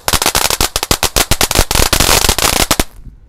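A size-5 cone fountain firework lit at dusk during Ramadan bursts into a dense run of sharp, rapid crackling pops, loud and close, for about three seconds before cutting off abruptly into quiet.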